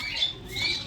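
Birds squawk at a hill-view resort, with short, scratchy high calls in two bursts over a steady outdoor background.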